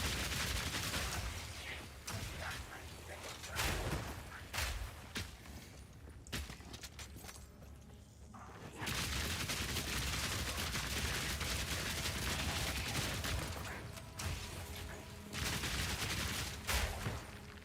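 Rapid Fire skill shots from a mercenary in Path of Exile 2, a dense, fast crackle of repeated shots in long bursts with a brief lull midway, loud and close, with no talking.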